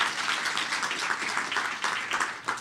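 An audience at a new venture challenge finals applauding, dense clapping from many hands that stays steady and full, close and lively, with no talk over it.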